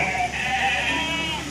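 Sheep bleat at a weekly goat and sheep market in Kadiri, with overlapping calls from several animals forming a steady, close chorus without pause.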